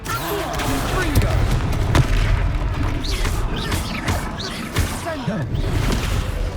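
Spell blasts from a Harry Potter-style wizard duel video game crackle and boom as fiery explosions, with whooshes and impacts landing densely in succession. Shouted spell names and game speech run over the effects.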